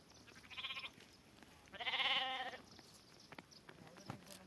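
Two distinct sheep bleats, a short one then a longer, louder one, heard outdoors against faint background noise.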